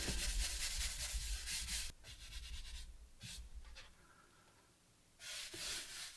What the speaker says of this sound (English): I'm going to use my hand to blend it